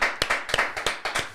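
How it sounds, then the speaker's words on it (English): A few people applauding a guest on a podcast, a short burst of sharp, close, rhythmic claps in quick succession. "Sharon, by the way, another round of applause."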